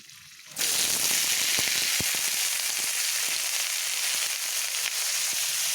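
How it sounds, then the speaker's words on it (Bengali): Pointed gourd (potol) pieces frying in hot oil with tempering spices, a loud steady sizzle that bursts in as the gourd hits the pan and crackles on continuously with scattered pops. "পটলগুলোকে আমি এইভাবে বেশ ভালোভাবে ভেজে নেব"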